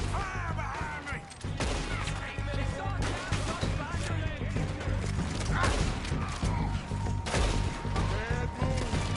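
Gunfire in a PS4 video game shootout against O'Driscoll gang members: scattered shots and impacts under a dense mix of game music and frequent shouted talk, moderately loud throughout.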